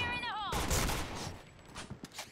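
Rapid gunfire in the shooter game Point Blank: dense bursts of shots ring out loud and close after a brief voice at the start, then trail off into scattered cracks.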